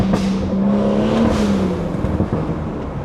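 A 500-horsepower BMW 340 lets off the throttle and downshifts, and its exhaust drops from a loud, sustained drone into a falling pitch with sharp crackles and pops, heard close from inside the car.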